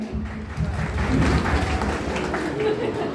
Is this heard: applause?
yes